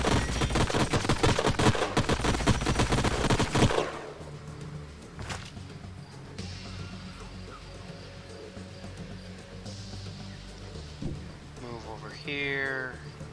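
Rapid gunfire bursts in the sci-fi strategy video game Age of Wonders Planetfall, a dense crackling volley for a few seconds, then quieter game ambience with electronic chirps.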